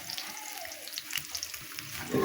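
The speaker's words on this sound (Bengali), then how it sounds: "এখন পেঁয়াজ কুচি আর মরিচ ফালি দিয়ে দিব" Chopped onion and sliced green chillies hit hot oil in a pan for a Bengali fish recipe, giving a steady soft sizzle and crackle throughout, alone without talk, swelling slightly louder near the end.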